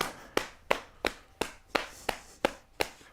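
Hands clap and smack against the sides of a foot in a steady rhythm, nine sharp, close slaps evenly spaced about a third of a second apart, with no talking over them.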